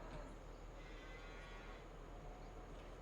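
Cattle lowing in the Farming Simulator game on Calmsden Farm, a steady murmur of animal sounds over continuous low ambient farm noise, moderately quiet with no clear separate calls.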